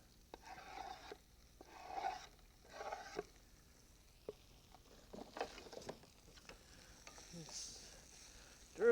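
Broccoli cooking in butter in a frying pan, stirred now and then: soft sizzling runs throughout beneath bursts of scraping and clattering from the stirring, with a few sharper knocks near the end.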